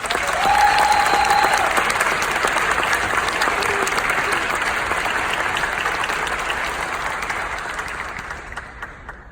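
Sustained audience applause welcoming a keynote speaker to the stage, a dense clapping crowd at full volume that holds steady, then slowly fades toward the end.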